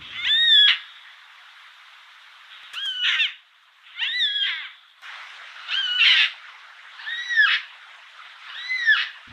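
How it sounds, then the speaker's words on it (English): Six loud, harsh, wavering bird calls of a yellow-tailed black cockatoo, spaced roughly every second or so, with quiet gaps between them. "the yellow-tailed black cockatoo, which makes this sound"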